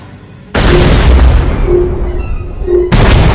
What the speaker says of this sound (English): There's an Imperial battlecruiser attacking the ship.